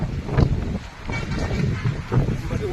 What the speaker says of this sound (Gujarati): પવન જોરદાર ઉડે છે ભાઈ